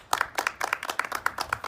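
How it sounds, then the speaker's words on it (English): Sparse hand clapping from a small audience at a university campus talk in Ann Arbor, a few distinct claps repeating in a loose, uneven rhythm, close and moderately loud. "So, let's everybody give a big round of applause for Stephen and all the work that he does."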